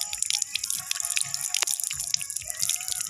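Tap water splashes and drips from a faucet at an eco rest house, a close, steady trickle with irregular droplet patters and one sharper splash midway.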